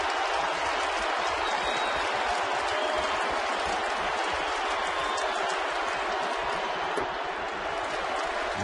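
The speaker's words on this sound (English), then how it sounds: "The crowd getting into it again." Stadium crowd at a Red Sox and Yankees baseball game keeps up a loud, continuous roar of cheering and clapping, steady throughout with a brief sharp accent partway through.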